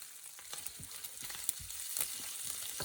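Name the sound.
bacon frying and sizzling in a pan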